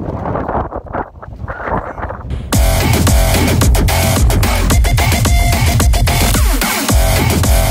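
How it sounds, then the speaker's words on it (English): Strong, gusty wind on a mountain roars and buffets the microphone, growing louder and more constant partway through. "It's really windy"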